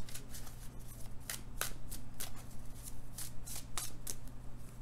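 Tarot cards are shuffled and pulled by hand. Quiet, repeated riffling bursts come at an uneven rhythm over a low steady hum.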